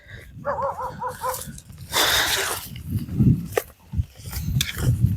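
A dog barks close by in a cold rural outdoor setting, giving a short burst of yelping barks and whines followed by scattered rustling and handling noises.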